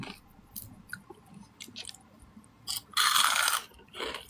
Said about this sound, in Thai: กินกับน้ำพริกข่าไปเลย